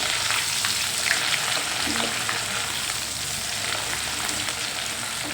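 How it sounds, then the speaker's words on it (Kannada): Garlic frying in hot oil for a homemade avarekalu mixture snack, a steady close sizzle with scattered crackles and pops throughout and no talking. "ಬೆಳ್ಳುಳ್ಳಿ ಹಾಕ್ತಾ ಇದ್ದೀನಿ ಬೆಳ್ಳುಳ್ಳಿ ಹಾಕಿ ಅದೊಂದು ಫ್ರೈ ಮಾಡ್ಕೊಳ್ಳೋಣ"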